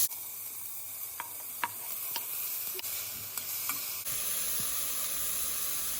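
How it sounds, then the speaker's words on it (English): Diced tomatoes and minced garlic sizzle in olive oil in a pot on the stove, a steady close frying hiss with scattered sharp pops and clicks and a brief stir, no talking. "I added a little bit of olive oil in the pot, and then also the diced tomatoes and a few cloves of minced garlic"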